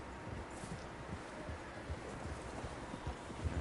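Many horses' hooves clip-clop steadily in Red Dead Redemption 2, a dense irregular trampling of several animals at moderate distance over a constant outdoor wash of wind and rustling.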